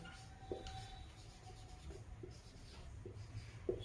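Quiet scratching of handwriting during a physics lecture, faint continuous pen or chalk strokes with a few small taps, low and close in a still room.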